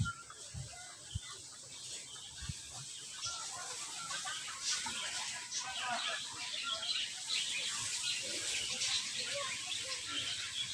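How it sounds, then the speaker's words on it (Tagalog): Many birds calling from overhead in an outdoor setting, a dense layer of chirps and tweets running steadily throughout over background noise, with a few low knocks early on. "Maraming ibon sa taas oh."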